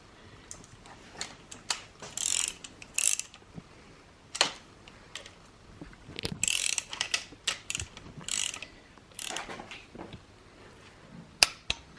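Torque wrench ratcheting and clicking while bolts are tightened on the bearing caps of a Mira turbo engine bottom end, a series of sharp close mechanical clicks and ratchet bursts in uneven groups with quiet gaps.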